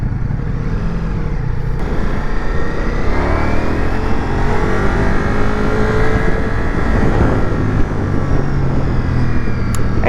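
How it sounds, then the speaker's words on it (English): Ducati Multistrada V4S motorcycle engine accelerating and then engine braking, with a loud steady roar, sweeping pitch changes as revs rise and fall, and wind rush from riding on the road. "As you release the throttle, the engine braking is fairly strong."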